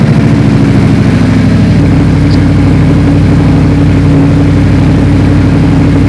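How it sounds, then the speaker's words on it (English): Audi R8 engine on cold start, a loud close steady idle with a deep rumbling drone that drops slightly in pitch after the first couple of seconds, no talking. "let's get a cold start on the R8"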